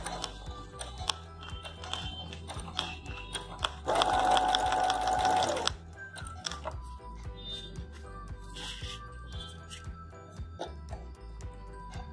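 Sewing machine stitching folded cotton silk fabric onto a saree pallu runs in one loud, dense burst of about two seconds amid quieter mechanical ticks and clicks, with a short fainter whir later on.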